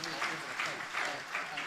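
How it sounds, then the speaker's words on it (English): Applause from the audience at an annual journalists' conference, a steady patter of clapping that swells in repeated waves, heard alongside a speaking voice. "Moderator, please let's give them a round of applause."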